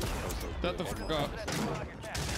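OTS-9 fire in Call of Duty Warzone on Rebirth Island, with quick shot bursts mixed with voices and game sound.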